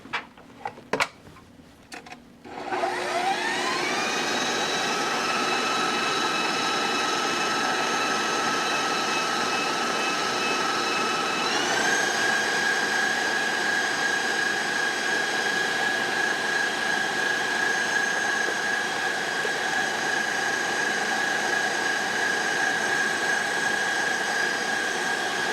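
Electric stand mixer beating mousseline buttercream, a few clunks as it starts, then a loud steady motor whine that climbs to speed and holds, shifting pitch once partway through.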